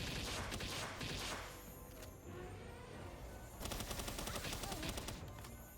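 Shotgun fire in the video game Palworld, with dense bursts of loud blasts in two clusters at the start and end and a calmer stretch between.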